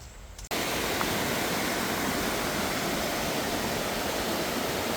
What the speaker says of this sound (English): This is actually a little branch off the river